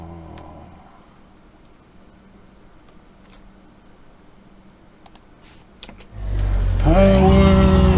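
A car engine in the video game My Summer Car is quiet at first, then revs up loud and steady in the final two seconds while towing a van, with faint clicks earlier.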